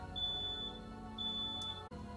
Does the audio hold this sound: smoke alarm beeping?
yes